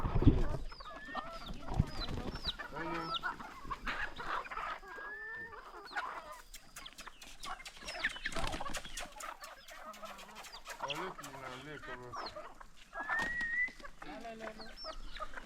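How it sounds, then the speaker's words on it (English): Chickens in Ghana cluck and squawk agitatedly in a noisy fight, with sharp bursts and flapping, fairly close, under faint background chatter. "These chickens are having it out. They're fighting."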